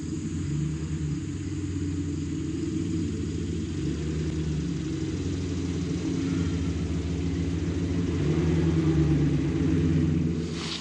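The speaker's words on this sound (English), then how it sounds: "Let's get the truck." A pickup truck engine runs at a cabin while stumps are being pulled, a steady low idling rumble that holds near and constant, swelling a little louder toward the end, with no talk over it.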